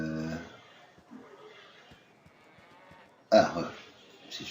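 A cow moos in the video game Baldur's Gate, a drawn-out low call at the start followed by quieter game ambience and a louder burst near the end.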